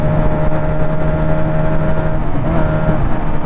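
A 125cc two-cylinder chopper motorcycle engine pulls steadily in top gear, giving a continuous loud drone with a steady hum and a slight pitch shift near the end. No one speaks.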